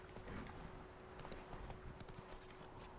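A horse's hooves clip-clop at a steady trot in The Witcher 3 video game, quiet and rhythmic under a soft background ambience.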